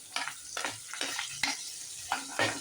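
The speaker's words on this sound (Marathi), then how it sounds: "आता घालूया कांदा आणि ठेचलेला लसूण. कढीपत्ताही घालते." Onion, crushed garlic and curry leaves fry in a pan, a close sizzle broken by repeated stirring scrapes that come in regular bursts about every half second.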